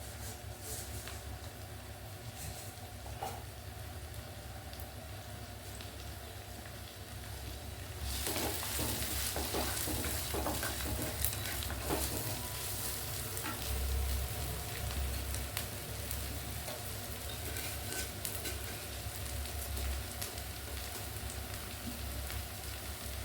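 Mustard seeds crackle and sizzle in hot oil for a coriander chutney, a steady dense frying hiss that grows louder partway through and continues without talk.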